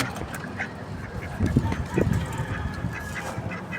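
Ducks quack and honk in a noisy cluster nearby, calls overlapping in short bursts over a muffled background.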